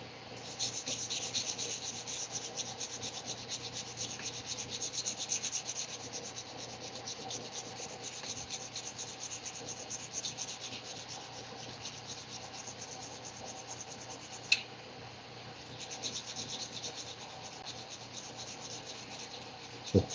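Steel being hand-sanded with 320 and 220 grit sandpaper in a forge, a continuous close rasping rub in steady strokes with one sharp click near the end and no talking.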